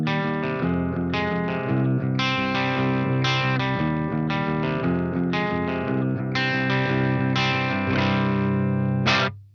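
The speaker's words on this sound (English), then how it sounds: "staying on the clean channel of the amplifier, I'm going to push the gain up into that sort of pushed clean territory" Electric guitar played through an amplifier's clean channel with the gain pushed to the edge of breakup, a dry run of sustained chords in a steady rhythm with distinct attacks, ending with a final strum and quick cutoff, with no talk.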